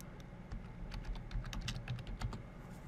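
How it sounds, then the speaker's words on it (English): Typing on a computer keyboard to enter a search in the Chrome browser address bar, a steady run of rapid close key clicks over a low background hum. "Simply type in what you're looking for"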